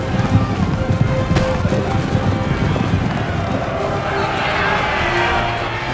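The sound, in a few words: horses charging in battle, Napoleon Total War video game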